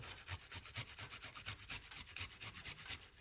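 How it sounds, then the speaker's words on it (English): A piece of ginger is grated in a steady run of quick, even rasping strokes, about four per second, soft and close with no voices. "So we're going to grate a piece of a ginger"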